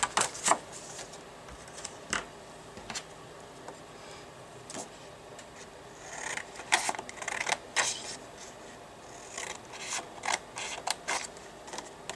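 Scissors cutting out a paper stamp motif for a handmade birth announcement card: sparse, crisp snips and clicks spread irregularly over twelve seconds, close and fairly quiet.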